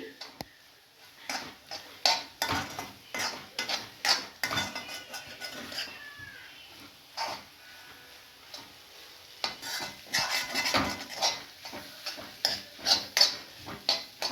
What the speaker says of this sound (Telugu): ఇప్పుడు ఉల్లిపాయ కోడిగుడ్డు మొత్తం కలిసేలాగా ఇలా మొత్తం కలుపుకోవాలి